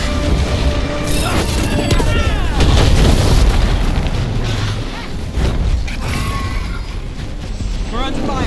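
Combat in Dragon Age: The Veilguard, with dense, loud booms and blasts of explosions and gunfire rolling continuously, while game characters' voices are heard in the mix.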